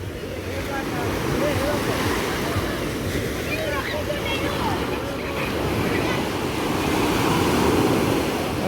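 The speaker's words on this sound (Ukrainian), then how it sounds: "вперше тут в Саранді на міському пляжі бачу такі хвилі" Heavy surf rolls and crashes steadily onto the city beach at Sarandë, Albania, a continuous roaring wash with gusts of wind across the microphone.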